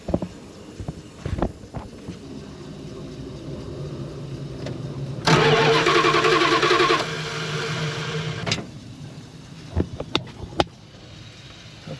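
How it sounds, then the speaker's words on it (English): A 1979 Dodge engine cranks over fast, catches and runs for a few seconds with a slightly uneven beat, loud and close, then cuts out, with scattered clicks and knocks before and after. "While it barely sounded uneven, that thing was cranking over fast."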